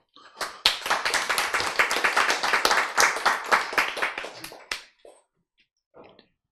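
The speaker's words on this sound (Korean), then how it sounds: "박수" A lecture audience gives a short burst of applause, crisp and close, about four seconds of dense clapping that stops abruptly, followed by a few faint sounds.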